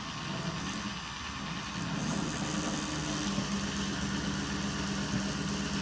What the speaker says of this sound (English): we put the Dremel up here